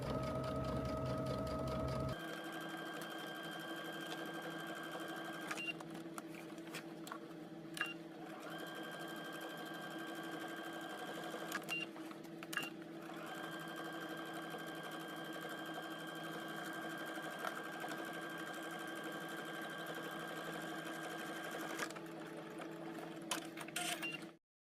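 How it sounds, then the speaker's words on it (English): Sewing machine stitching in the ditch along a skirt waistband facing, a steady mechanical whir running almost without pause for over twenty seconds after a brief opening burst, with a few short stops and restarts. "go ahead and stitch in the ditch or slip stitch the fold of the waistband facing"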